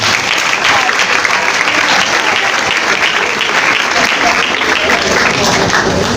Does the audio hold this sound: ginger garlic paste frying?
no